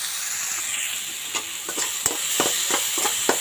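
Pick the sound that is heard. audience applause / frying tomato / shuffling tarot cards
frying tomato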